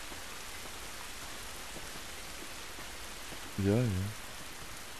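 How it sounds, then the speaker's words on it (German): Steady rain in the video game The Last of Us Remastered hisses evenly throughout at low level, and a voice briefly speaks near the end over it. "Dieser Regen ist nicht gut für uns."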